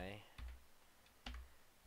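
Arrow keys on a computer keyboard are tapped twice with soft, close clicks roughly a second apart, against low room hum.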